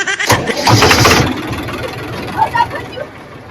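A new tractor's engine cranks and catches with a loud, rough burst of rumbling, then drops away into a low idle while people talk nearby in a village.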